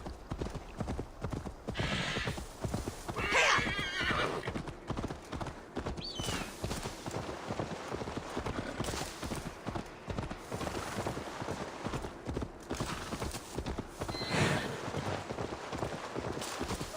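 Horse hoofbeats in the video game Assassin's Creed Valhalla clop steadily at a quick gait for the whole stretch, with an occasional horse whinny and faint talking in the background.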